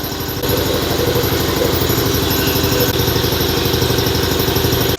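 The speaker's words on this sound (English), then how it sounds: "now that the air compressor's off and everything" A shop air compressor runs steadily and loudly near a hydraulic ram being resealed, a dense mechanical drone with rapid pulsing throughout, starting up strongly after a brief quieter moment.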